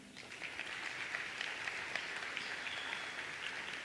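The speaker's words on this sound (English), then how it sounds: "a round of applause to the parents and guardians, please" An audience at a scholarship symposium claps for parents and guardians, a fairly soft, steady patter of many hands that continues evenly without talk.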